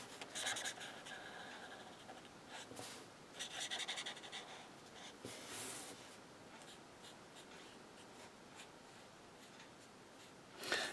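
Alcohol marker tips scratch and rub across paper while an Easter basket craft project is being coloured, a soft, close, uneven series of faint strokes with quiet pauses and no talk.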